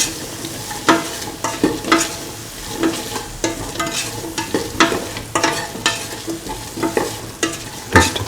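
A spoon stirs mung bean and ivy gourd fried rice with salt in a hot pan, with repeated scraping strokes at an uneven, roughly once-per-second rhythm over a soft constant sizzle, close and clear.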